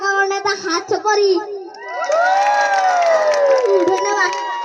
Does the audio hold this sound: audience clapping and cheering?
yes